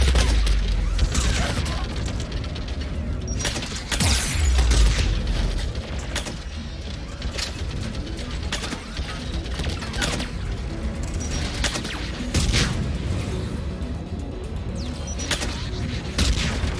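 Turret gunfire in the Mass Effect 3 video game, repeated heavy booming bursts with sharp blasts scattered across a continuous noisy battle backdrop.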